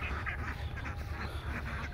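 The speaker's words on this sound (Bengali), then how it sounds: "এই খাকি ক্যাম্বেল হাঁসের জাতটা খুবই ভালো, উন্নত সংস্করণ একটা হাঁস।" Khaki Campbell ducks on a farm quack in a quick, repeated series, close and clear with no voices.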